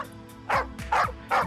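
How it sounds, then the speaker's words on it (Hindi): A female dog gives three short, sharp barks in quick succession, close and loud, with a faint musical background between them. "सर ये मुझे देखकर फिर से भौंक रही है"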